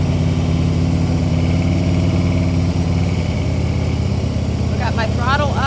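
A motorcycle engine runs steadily at low revs during a slow ride up a hill, with the throttle held slightly open and the clutch just at the friction point. The engine is loud and close, and a brief high chirp sounds near the end.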